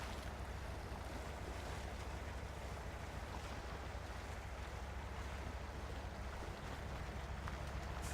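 Truck driving through water in the off-road game Mudrunner Spintires, a continuous loud rush and slosh of water with a low rumbling engine drone underneath, steady throughout with no talking.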